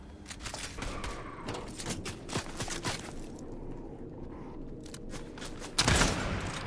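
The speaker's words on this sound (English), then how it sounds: "I just sniped the guy's zombie that was chasing him." In the video game Fortnite, gunfire crackles in a rapid, uneven burst of sharp shots, including sniper rifle fire. A louder, heavier blast hits near the end.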